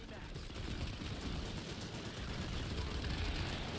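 Dense gunfire in Planetside 2, a steady rattle of automatic weapons and distant blasts, with voices murmuring underneath throughout.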